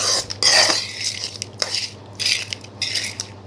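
A spoon scrapes and clinks in a pan as turmeric-and-salt tempering is stirred into tamarind rice, in short bursts of metallic scraping with quiet pauses between.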